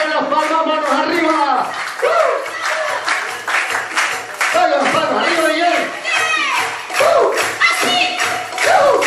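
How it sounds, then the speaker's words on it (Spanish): Party guests at a birthday celebration clap their hands in a rhythmic beat, while a loud voice talks and chants over them almost the whole time. "que se oigan las palmas, manos arriba"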